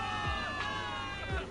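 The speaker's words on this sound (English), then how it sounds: "Give it up for yourselves, soldiers! Cheer for victory!" Crowd of soldiers cheering for victory in the video game Zenless Zone Zero, a dense mass of voices shouting and whooping over a sustained tonal music bed, moderately loud and continuous.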